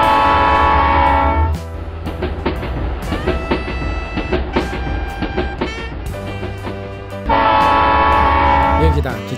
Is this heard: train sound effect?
yes